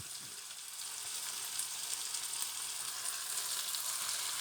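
Chopped basil leaves fry in a frying pan with a steady, close, continuous sizzle that holds an even level throughout, with no talking.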